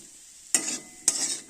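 Potatoes fry in a pan, with two quick stirring scrapes and bursts of sizzle standing out against a faint background hiss.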